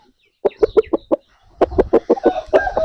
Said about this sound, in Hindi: लाल प्योर मुर्गी है